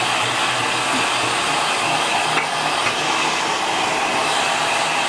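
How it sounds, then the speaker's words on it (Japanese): A hair dryer blows on color-dyed hair, producing a loud, continuous airy roar that stays steady throughout, close up with no talking. "いい感じでしょ、ドライヤーで。"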